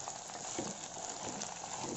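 Sliced onions and green chillies fry in hot oil, giving a steady broadband sizzle with faint crackles throughout and no one speaking.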